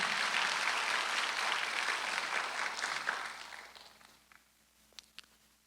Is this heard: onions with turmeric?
no